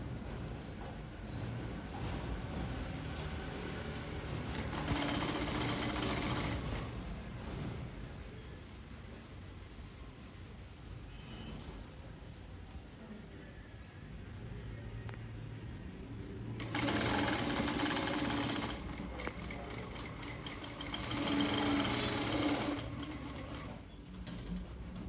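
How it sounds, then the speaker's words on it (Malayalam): Sewing machine stitching a churidar seam, two loud continuous runs of rapid stitching separated by a quieter stretch, close and alone with no talking. "4 ഇഞ്ച് ഡിസ്റ്റൻസിലാണ് തയ്ച്ചു കൊടുക്കുന്നത്."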